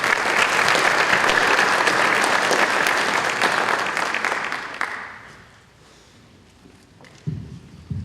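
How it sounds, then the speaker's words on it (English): A high school awards assembly audience applauds loudly and steadily for about five seconds, then the clapping fades away, leaving a quiet hall with a few scattered thumps. "Now you may clap for those two."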